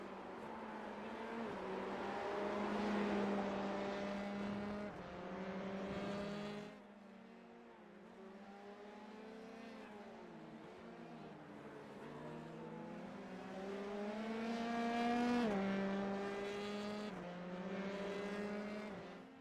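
Formula 3 race cars in a racing video game scream past in sustained, rising and falling engine whines, shifting pitch through gear changes, loud and continuous with a brief dip midway.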